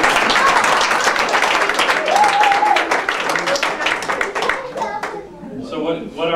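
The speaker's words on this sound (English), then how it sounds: "How about a round of applause for everybody that's" Party guests at a 50th wedding anniversary celebration break into a round of clapping and applause, loud and close, fading into scattered claps as a voice and a child's chatter come through near the end.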